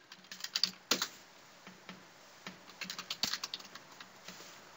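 Quick, uneven keystrokes on a computer keyboard as a username is typed in, with soft clicks coming in short bursts and brief pauses, close and quiet with no one speaking.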